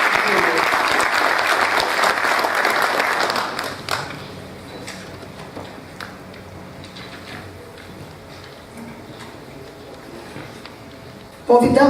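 Loud applause at an official heraldry and humanities award ceremony in Brazil, a thick burst of clapping for about four seconds that fades into quieter room sound with scattered taps, then a sudden loud return at the end.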